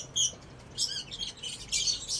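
Racing pigeons in a loft give soft, scattered chirps and coos in a few brief bursts, fairly faint and close, with light rustling between calls.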